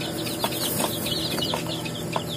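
Chickens and chicks in a brooder, with soft clucking and peeping throughout, a few brief louder calls standing out against steady background noise.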